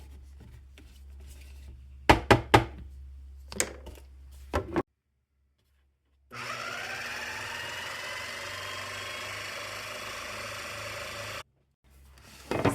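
A food processor blends basil pesto on a kitchen counter, its motor running in a steady loud whir for several seconds, preceded by a few sharp knocks and clatters and separated by brief silences.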